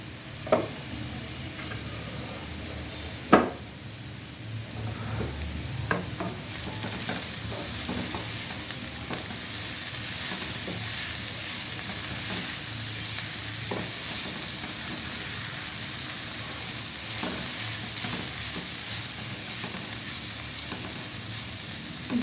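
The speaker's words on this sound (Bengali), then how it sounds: "এবারে ঢাকনা উঠিয়ে ভাজিয়ে নেড়ে দেবো" Potato bhaji fries in a pan with a steady close sizzle and repeated scraping stirs of a spatula, plus a few louder clacks, continuing for about twenty seconds with no talking.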